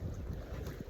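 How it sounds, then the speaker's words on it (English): Strong wind roars across the microphone in a steady low rumble, with a faint wash of water in the background and no voices, on the Lady Evelyn River in Temagami. "But it's been really windy"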